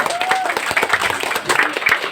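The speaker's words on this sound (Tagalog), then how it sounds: "May palakpak naman daw po tayo lahat dyan." Guests at a birthday celebration applauding, a crowd's clapping with sharp individual claps standing out, close and lively, with faint voices mixed in.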